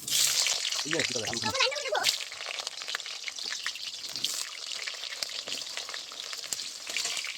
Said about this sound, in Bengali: প্রথমে আলুটা ভেজে নেই